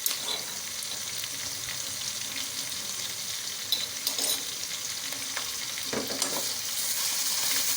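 Onion and ginger fry lightly in a pan for aloo gobi, a steady soft sizzle throughout with occasional stirring clicks and scrapes, close and alone with no voices.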